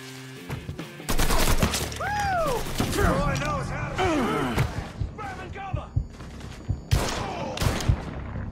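Gunfire in the video game Mafia 3 crackles in rapid bursts and single sharp shots, mixed with whooshing and swooping effects and thuds over roughly eight seconds, loud and busy.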